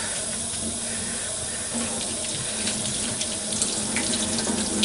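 Tap water runs steadily into a sink while a makeup brush is rinsed by hand, a continuous loud splashing hiss with small shifts as the bristles move under the stream.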